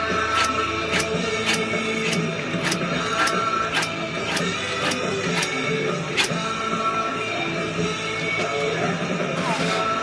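A Bowie knife drawn repeatedly across a block sharpener makes steady, rhythmic scraping strokes, each a sharp gritty swipe about half a second apart, close and continuous over ten seconds.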